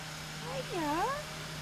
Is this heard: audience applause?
no